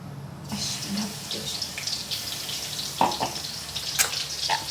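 Ginger garlic paste sizzling in a hot pan while cooking veg momos filling, a steady soft crackle and hiss with a few brief clinks and stirs, close and moderately quiet.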